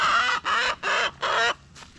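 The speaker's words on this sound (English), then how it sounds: "let's go check on the chickens" Backyard chickens on an off-grid homestead farm, four loud, close clucking squawks in a quick uneven rhythm followed by a fainter short call, with no talk over them.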